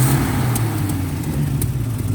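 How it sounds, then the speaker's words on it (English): A 1970 Triumph TR6 engine idles with a steady low rumble close by, joined by faint intermittent ticking puffs from a small exhaust leak around the manifold. "Got a little exhaust blow from the top somewhere around the manifold area"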